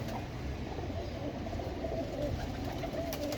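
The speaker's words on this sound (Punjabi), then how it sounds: "ਇਹ ਦੇਖੋ ਸਲਾਰਾ ਕਬੂਤਰ ਜਨਾਬ, ਕਾਂਟਿਆਂ ਵਾਲਾ" Salara pigeons with feathered feet coo softly in a loft, faint murmuring calls buried in a dense, steady background hiss and rumble, with no talk.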